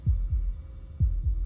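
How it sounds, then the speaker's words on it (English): A game heartbeat in Slay the Princess, steady low double thuds sounding twice in quick succession, deep and near against faint background hum, no speech. "That was the sound of a heartbeat"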